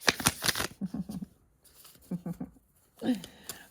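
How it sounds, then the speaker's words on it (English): A deck of playing cards is shuffled up close in quick riffling bursts, with a soft voice speaking between and over the shuffles. "we're just giving it a good shuffle"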